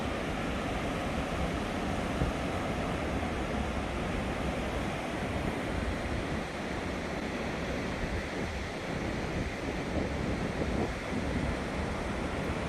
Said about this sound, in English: you can definitely hear the waves.